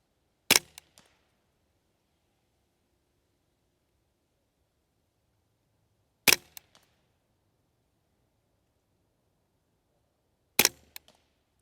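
Three sharp Ruger 10/22 rifle shots fired at a range, spaced several seconds apart, each a crisp crack with a brief echo tail, with quiet outdoor background between them.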